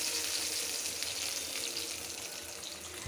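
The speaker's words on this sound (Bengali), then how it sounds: "এখানে পেঁয়াজটা পুড়ে যাচ্ছে।" Onion fries in hot oil in a pan, giving a soft, continuous sizzle with a steady hiss and no voices.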